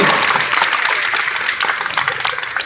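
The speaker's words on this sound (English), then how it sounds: "So, quick round of applause in here." A comedy show audience at the Anthrocon convention gives a quick round of applause, a dense steady burst of many hands clapping close and loud throughout.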